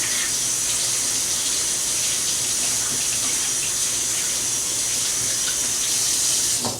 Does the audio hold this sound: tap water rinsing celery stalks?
yes